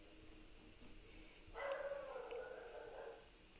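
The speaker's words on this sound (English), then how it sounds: "My dog barks so much," A dog barks indoors, faint and somewhat distant, in a short burst lasting about a second and a half against a quiet background.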